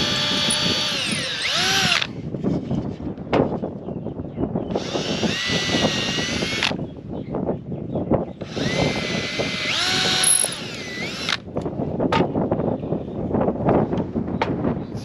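A power drill pre-drills holes in leftover scrap wood while building pasture boxes. The motor whines in several close, loud bursts, with rough grinding between them and a little wind noise on the microphone.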